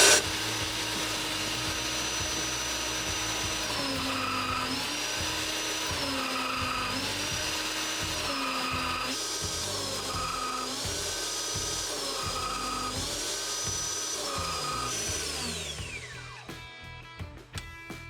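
A PowerX hydraulic torque wrench pump runs with its system cooler for a 1-inch square drive wrench, giving a loud steady motor whine that repeatedly dips and rises in pitch as pressure cycles, then winds down near the end.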